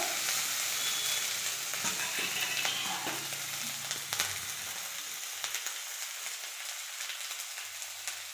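Ginger paste and chopped tomato fry in a hot pan with a steady, close crackling sizzle and scattered spatter, dense at first and thinning slightly toward the end, with no talk over it.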